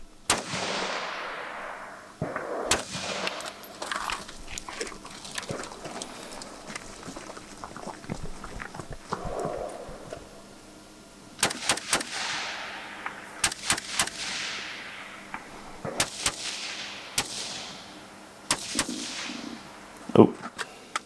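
Rifle shots at an outdoor two-gun shooting competition, sharp cracks scattered singly and in quick clusters, some distant with echoing tails, interspersed with quieter handling noises.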